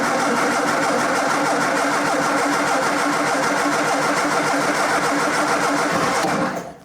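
Triumph TR4 engine with the choke set, cranking and running: a dense, steady mechanical churn held close and loud for several seconds before cutting off.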